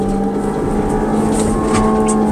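A 2021 Ford Transit Connect engine pulls hard at wide-open throttle in first gear, a loud, steady drone from inside the cabin that rises slightly in pitch over a couple of seconds.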